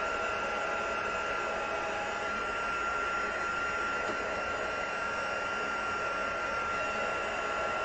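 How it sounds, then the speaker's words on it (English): An embossing heat tool blows hot air to heat set embossing powder on cardstock, producing a steady, close, whooshing hair-dryer-like drone with a constant whine that runs unbroken throughout. "Let's heat set him real quick."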